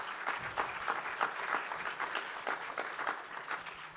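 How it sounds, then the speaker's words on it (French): Audience applause at an anniversary event for an employment organization, a steady, full round of clapping from a crowd that holds at an even level throughout with only slight swells. "Ça s'applaudit, on peut l'applaudir."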